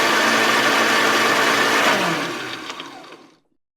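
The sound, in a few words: blender running, likely crushing ice for a smoothie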